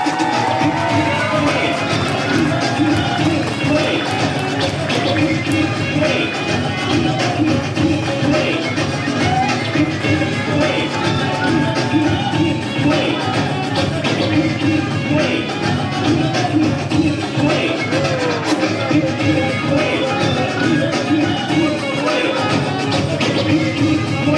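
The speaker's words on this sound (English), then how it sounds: "you need to stand up right now and start clapping right now" A lively audience claps and cheers at a hip hop hall of fame induction ceremony, a continuous dense crowd roar with shouts and whoops, voices mixed throughout.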